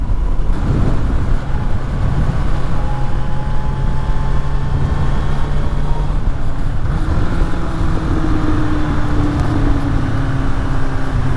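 Suzuki Bandit roadster motorcycle engine pulling hard at about 4000 rpm near 120 km/h, a steady loud drone with a rising tone partway through as the bike accelerates, with wind rush throughout.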